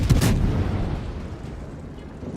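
Heavy naval guns fire from a battleship in the World of Warships video game, a single loud booming blast at the start that rolls off into a long low rumble.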